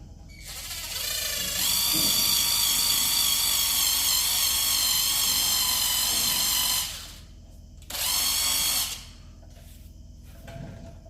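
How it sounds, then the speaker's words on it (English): Handheld buffer polishing a small paint blemish on a car panel, spinning up into a loud, steady high whine for about five seconds, stopping, then a brief second burst before falling quiet. "I might just run a buffer over to see if anything comes off."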